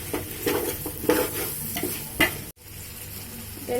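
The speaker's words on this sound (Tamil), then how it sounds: "எல்லா வெஜிடபிளையும், பச்சை மிளகாய், கேரட்டு, பீன்ஸு எல்லாத்தையும் போட்டு நல்லா வதக்குறியா?" Vegetables for vegetable biryani, including green chillies, carrots and beans, sizzle in a pan while being stirred, with rhythmic scrapes over steady frying and a brief cut partway through.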